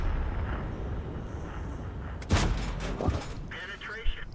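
Tank cannon fire in the World of Tanks video game, a heavy boom around the middle followed by a lighter blast later, over a low rumbling battle ambience with someone commentating throughout.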